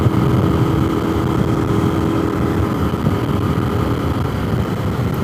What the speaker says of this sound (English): Oh, it's a Maserati.